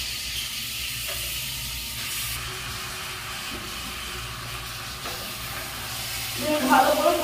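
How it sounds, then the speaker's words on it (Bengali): Chicken pieces just added to a cooked-down spice masala sizzle steadily in a pot, a continuous low frying hiss with stirring scrapes that grows louder near the end. "ভালো করে কষিয়ে কষিয়ে রান্না করে নেবো চিকেনটাকে"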